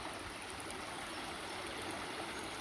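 Spring water flows and trickles steadily out of the ground beside a Roman villa site in the Cotswolds, a constant close rushing wash with no voices over it.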